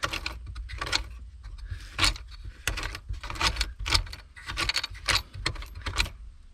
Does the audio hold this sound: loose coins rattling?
yes